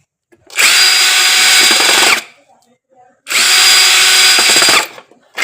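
Power tool tightening a screw on a main switch: two close, loud bursts of drill whirring, each about a second and a half, separated by a short quiet pause.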